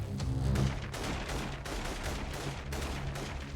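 Gunfire in the video game Deadlock rattles in dense continuous bursts, loud and close, with short pauses between volleys.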